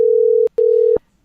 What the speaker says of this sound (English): if we can get this ringing to stop